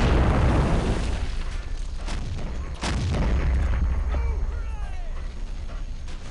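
An anti-air gun firing in the Men of War: Assault Squad video game, heavy booming shots with a sharp blast partway through and rumbling battle noise, under a man's speech.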